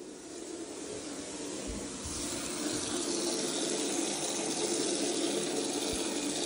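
Water gushes steadily from an opened tap on an unvented hot water cylinder system, a broad continuous rush that swells slightly louder partway through, with no voices.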